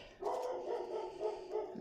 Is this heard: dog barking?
yes